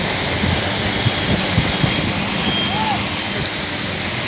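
Heavy rain falls in a dense, steady roar, with a few scattered thumps and splashes over it and no talk.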